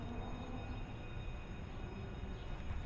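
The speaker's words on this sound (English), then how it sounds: "Yeah, another train departing." An MBTA train departs Forest Hills station, a distant, steady rumble of rolling wagons and wheels on rails with a faint high squeal above it, no voices.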